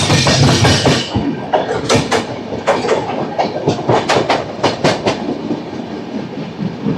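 Secunderabad AC Superfast Express 12783 running fast between Visakhapatnam and Secunderabad, skipping a station, with a loud steady rumble and sharp, regular clickety-clack wheel beats close by.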